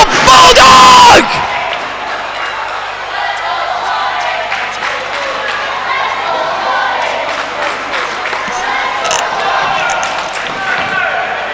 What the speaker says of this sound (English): And Scotty has the entire crowd behind him at this moment.